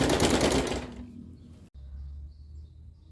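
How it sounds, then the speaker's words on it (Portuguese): A sewing machine stitches a pink rug with pointed edging, loud and steady for about a second and a half before stopping, then a low hum remains. "E vou costurando."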